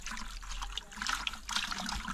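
Water trickles and splashes steadily while it is fetched at a village well in rural Kenya, a continuous close-up wet sound with small irregular surges.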